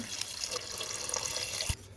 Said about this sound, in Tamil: கறி வேகிறதுக்கு தேவையான அளவு தண்ணி சேர்த்துப்போம்